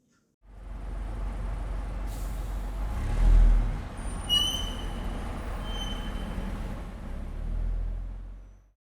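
A bus in a transport sound sampler, heard as a steady low engine rumble throughout, with a hiss of air brakes and a couple of louder surges as it moves.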